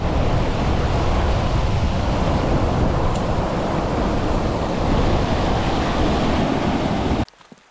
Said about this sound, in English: let's not play in the rapids here